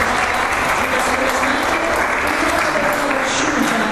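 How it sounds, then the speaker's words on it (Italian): Audience applause fills a hall at a municipal event in Castellammare di Stabia, steady dense clapping for an actress throughout, loud and continuous with faint voices mixed in. "Vorrei invitarvi ad applaudirla"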